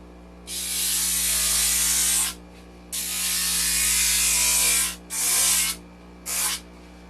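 A grinder flattens the front surface of a vacuum-pressed orthotic device in four loud, hissing bursts of different lengths over a steady low motor hum, with brief quiet gaps between them.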